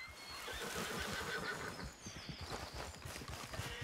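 Wild horses in the Red Dead Redemption 2 game give a whinny over soft hoof clip-clops, the neigh fairly close and the footfalls continuing steadily underneath.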